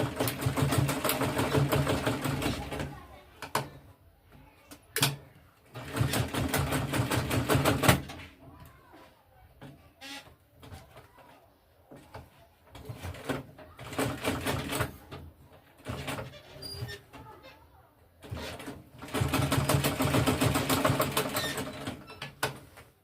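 A sewing machine stitches an Ankara fabric and leather tote bag along a 2-inch allowance, running in several bursts of steady, close motor whirring with quieter pauses between runs.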